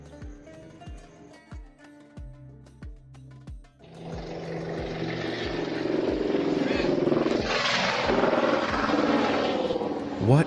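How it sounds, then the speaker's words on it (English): Helicopters fly overhead during a police arrest outside a home, a steady loud broadband rotor roar swelling in after earlier clip-clop thuds and lingering to the end. "Helicopters are flying or something"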